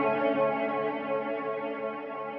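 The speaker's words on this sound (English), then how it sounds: "So I'm gonna put the mod all the way up and see how that affects the reverb tail" An electric guitar through a Catalinbread Softfocus reverb pedal with modulation turned all the way up rings out in a lush, shimmering, sustained tail that stays steady and dense before slowly thinning, with no playing or talk over it.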